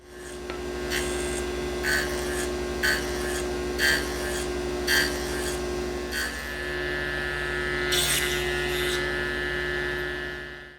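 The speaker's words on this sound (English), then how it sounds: "This is the first of a series of cuts that I need to make to form the tenons." A hand saw or rasp cuts wood to form tenons for a clock, with about six evenly spaced rasping strokes over a steady electrical hum, then a rougher scrape, all fairly quiet.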